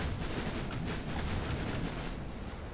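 Warship guns fire high-explosive shells in the naval strategy game Ultimate Admiral Dreadnoughts, a dense, continuous barrage of rumbling blasts, faint and steady throughout.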